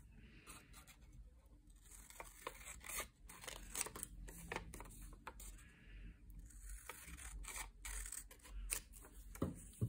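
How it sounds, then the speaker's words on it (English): Scissors snip through paper while cutting out a triangle shape for a paper pyramid craft, a close, quiet run of irregular crisp cuts and rustles with small pauses between strokes. "Then you have your triangle, okay? And go ahead and cut it out."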